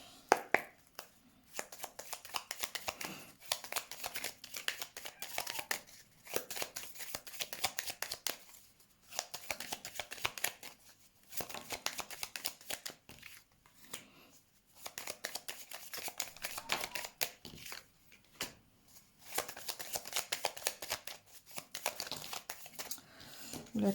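A deck of tarot-style cards being shuffled and handled by hand, with repeated crisp riffling and crinkling bursts separated by short pauses, close and fairly quiet with no talking.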